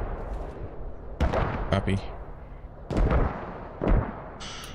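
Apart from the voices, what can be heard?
gunshots in a video game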